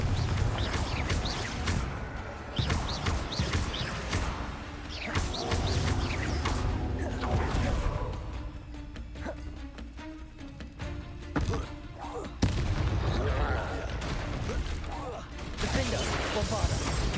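Spell blasts from Hogwarts Legacy, Bombarda and Confringo, land as repeated explosive cracks and thuds amid busy combat noise, with a voice talking over much of the action.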